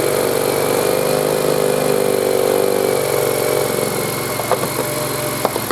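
A Yamaha Mio M3 scooter engine idles steadily and evenly close by after work on its charging regulator, with a few light clicks near the end and no talking.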